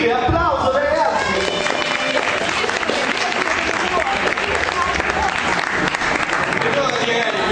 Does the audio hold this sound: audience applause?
yes